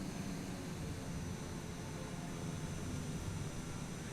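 Steady, loud broadband drone of an airplane engine in Microsoft Flight Simulator during a flight over the Andes, constant and unbroken with no talk.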